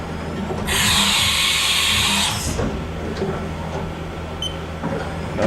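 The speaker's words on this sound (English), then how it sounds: "Do a tool change here." A 2004 Haas VF5 CNC mill runs an automatic tool change, a loud whirring mechanical burst for a couple of seconds followed by quieter machine hum and faint clicks.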